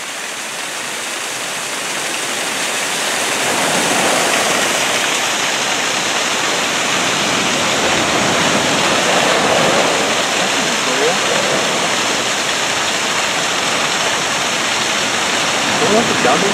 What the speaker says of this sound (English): And it's got a waterfall down here.